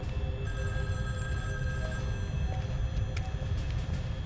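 A phone rings with an incoming call in a movie, a thin repeating ring over a low steady rumble, with faint ring bursts spaced through the short stretch.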